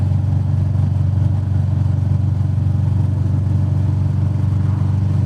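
A Royal Enfield Meteor 350 fitted with a DNA air filter runs close by with a loud, steady engine rumble that holds an even level throughout, with no voices.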